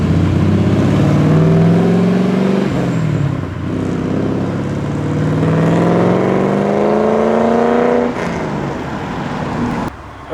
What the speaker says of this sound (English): we're now about to see the customer drive away in it